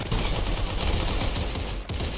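Rapid gunfire in the Roblox shooter Arsenal, a dense burst of overlapping shots crackling without pause for about two seconds, with one brief dip near the end.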